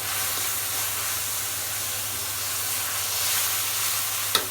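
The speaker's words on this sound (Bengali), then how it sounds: "এই মশলাটা আমি কষাই নেব।" Spice masala of turmeric, dried chilli powder, ground green chilli and split chillies sizzling and hissing steadily in a pan, a continuous close frying crackle with a low hum beneath and a brief knock near the end.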